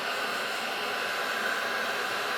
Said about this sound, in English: If we add a little bit of heat to the heat shrink tubing